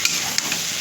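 Small potatoes frying in a pan give a brief, steady hiss of sizzling with a few faint crackles, close and alone.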